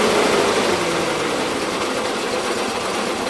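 A 1977 Gravely GMT 900 tractor engine runs with no load, a steady, fairly loud drone with a buzzing, sewing-machine-like rattle throughout, no voices over it.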